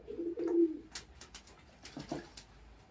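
A male Salara pigeon coos at close range, giving a pair of soft, low throaty coos early on and a shorter coo near the end, with quiet rustling between.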